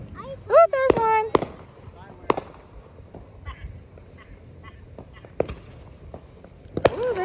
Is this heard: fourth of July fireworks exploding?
yes